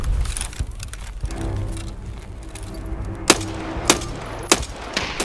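Gunfire and sharp grenade blasts in the video game Escape From Tarkov crack through a steady engine-like hum, several impacts near the end, no talking.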